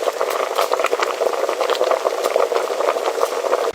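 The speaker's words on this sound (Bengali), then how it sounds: "ও মাই গড, কি সুন্দর বলক উঠছে দেখছো?" A pot of meat boils on a miniature stove with a dense, steady bubbling and rattling simmer, close and fairly loud, with no pauses.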